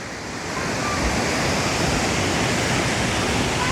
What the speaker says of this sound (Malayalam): ഇവിടെ നിന്നാണ്ട് ഒരു പാറക്കൂട്ടത്തിൻ്റെ ഇടയിലാണ് ഈ വെള്ളച്ചാട്ടം വരുന്നത്